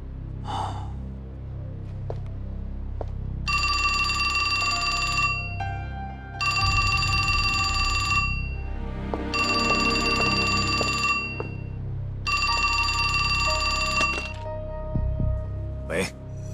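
A telephone rings in a wartime spy film scene. It gives four long, loud electronic ringing bursts with even pauses between them, over a low background, while a person gasps and breathes nearby.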